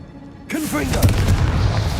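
A Confringo blasting spell goes off in Hogwarts Legacy. Silence gives way to a loud, booming burst that rumbles on with crackling debris, while a voice calls out briefly at the start.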